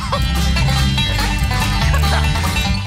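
A horse whinnies over a busy, dense background of steady noise, and the neigh is partly masked by the surrounding sound.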